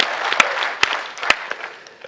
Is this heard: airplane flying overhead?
no